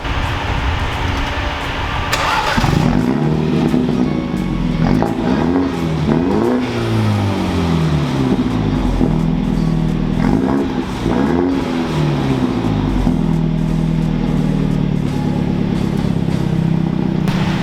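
A Mini Cooper engine revs repeatedly to clear out its exhaust, rising and falling in several loud, close sweeps over a steady idle, with no voices.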